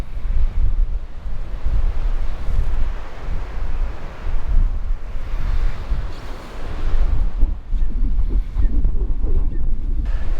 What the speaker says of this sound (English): that's the reason it's so windy at Kaʻena Point